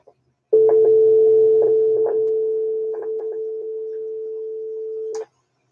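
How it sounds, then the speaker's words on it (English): A steady landline telephone dial tone holds loud and continuous for about five seconds, with a few faint clicks over it, then cuts off abruptly. "Yep, there's still dial tone."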